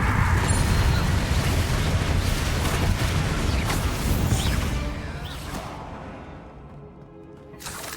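A Confringo spell in Hogwarts Legacy sets off a loud, booming fiery blast with whooshing debris, which rolls and fades over several seconds into a quieter tail with a faint final crackle.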